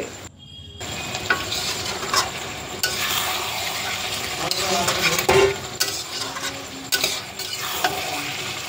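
Chicken fries in a pan while a spatula stirs it steadily, a continuous sizzle broken by scraping strokes and a few sharp clinks, close and fairly loud throughout.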